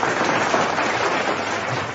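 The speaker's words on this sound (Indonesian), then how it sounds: "tepuk tangan buat Tuhan Bapak" Dense, steady applause from a gathered audience at a religious talk, a continuous wash of clapping filling the whole moment without pause.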